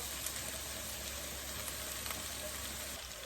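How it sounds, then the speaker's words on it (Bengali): Onion and garlic fry in a pan for a saag stir-fry, a quiet, even crackling sizzle throughout with occasional small pops, no voices present. "পেঁয়াজ রসুনগুলো আমি একটু ভাইটা নিচ্ছি"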